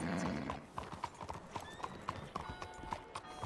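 Horse hooves clip-clopping in the Red Dead Redemption 2 game, a steady near rhythm of hard hoof strikes with a whinny early on and faint tonal game sounds behind.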